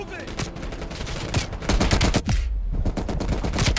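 Rapid hip-fire gunshots from Call of Duty Black Ops Cold War, a dense run of loud overlapping bursts that builds and holds steady, with game effects mixed in.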